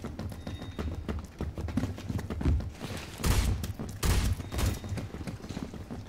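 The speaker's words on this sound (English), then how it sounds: "Oh, that's a grenade." A grenade blast in the Roblox first-person shooter Phantom Forces lands amid a busy firefight, with a broadband burst of noise rising around the middle of the stretch and gunfire crackling before and after.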